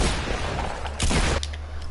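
Gunfire in Fortnite battle royale, a dense burst of shots with a sharp loud crack near the middle, heard alone over a steady game background.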